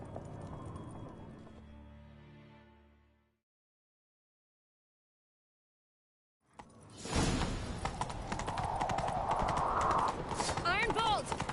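A horse gallops in The Witcher 3, hooves clip-clopping in a quick, steady rhythm that starts after a silent gap, loud and close, with a whoosh of motion and voices talking over it.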